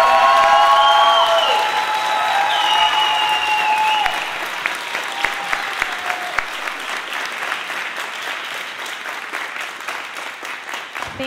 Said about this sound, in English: Let's give a big round of applause to all of our final award winners